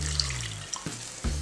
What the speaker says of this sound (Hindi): इसके साथ ही इसमें डाल देंगे थोड़ा सा पानी